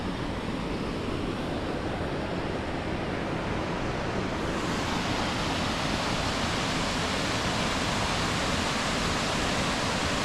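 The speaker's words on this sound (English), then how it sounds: "Oh yeah, there is a waterfall." A waterfall at Loch Maree in the Scottish Highlands rushes steadily, a dense broadband roar of falling water that stays constant and close throughout with no voices.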